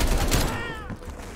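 Gunfire in a Call of Duty: Black Ops Cold War campaign battle in Cuba, a dense burst of overlapping shots that quickly fades, loud and close, under a shouting voice.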